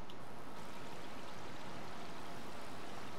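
Water runs steadily into a bath in a horror video game, a continuous hissing, splashing flow with no voices.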